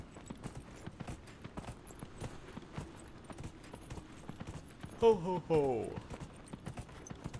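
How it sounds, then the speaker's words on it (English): In the video game Dragon Age: Inquisition, a horse's rhythmic hoofbeats clip-clop steadily throughout, with a voice briefly calling out over them midway. "Run on the horse"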